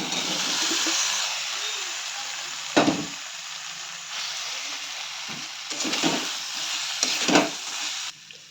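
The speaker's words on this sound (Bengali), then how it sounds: "কিছুক্ষণ এইভাবে কষানো হবে কচুটা দিয়ে দেওয়ার পর।" Fried taro stir-fried in spice paste, a steady close sizzle broken by a few louder scraping stirs of the spatula, with no speech.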